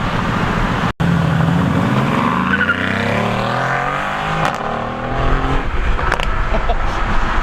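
Ford GT sports car engine with stock exhaust, loud and close, revving and accelerating with rising pitch sweeps, then sharp crackles and pops from the exhaust near the end.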